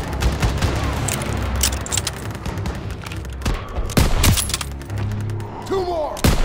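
Dense battle gunfire in the World War II video game Call of Duty WWII, with repeated heavy bursts and booming shots over constant rumbling din, close and loud, with a few shouted voices mixed in.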